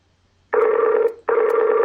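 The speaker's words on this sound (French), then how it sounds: "Quatrième sonnerie." A telephone rings twice during an outgoing call, two long steady electronic ring tones separated by a short gap, loud and close with no other sound.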